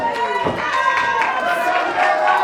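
A wrestling crowd on its feet at an independent show, cheering and clapping in a steady roar with a commentator talking over the noise.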